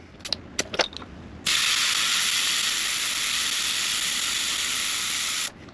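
After a few light metallic clicks at the valve, air hisses loudly and steadily out of an ATV tire being deflated down to 10 PSI, then stops abruptly.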